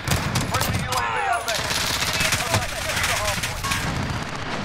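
Heavy gunfire from Call of Duty: Modern Warfare pounds in dense, overlapping bursts and sharp shots, loud and continuous, with game voices and effects woven through.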